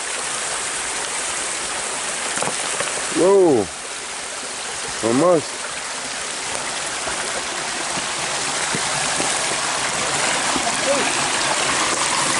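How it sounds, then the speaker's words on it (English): A small forest waterfall pours into a flowing creek, a steady broadband rush of water heard up close throughout, while a voice speaks briefly over it twice. "look at this beautiful little waterfall"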